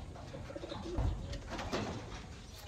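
Pigeons cooing in a backyard loft among a newly bought batch, including one with feathered feet; soft repeated coos, close and fairly quiet, with a slightly louder burst midway and no talk.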